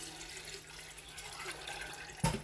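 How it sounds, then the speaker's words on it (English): Water is poured into a big stock pot to make a turkey brine, a faint continuous splashing trickle heard up close, with a short clunk near the end. "So I'm gonna pour that in, and that's to cover your turkey completely."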